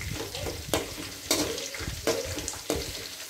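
Green chillies and peanuts frying in a pan: a steady close sizzle of hot oil, broken about every 0.7 seconds by louder scraping stirs. No one speaks.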